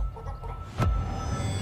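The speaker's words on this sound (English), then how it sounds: "the chickens laying their eggs" Chickens in Fortnite clucking softly in a few short calls, then a sudden thump-like burst, over a low steady background hum.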